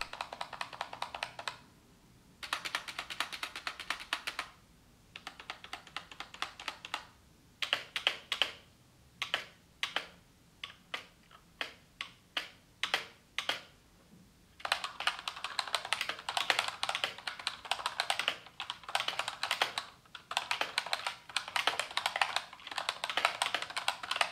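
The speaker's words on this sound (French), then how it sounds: "un petit test audio du clavier, je vous laisse écouter" Rapid typing on a Cooler Master MasterKeys Lite L keyboard, crisp clacky keystrokes in bursts with brief pauses between, close and fairly loud, no voices.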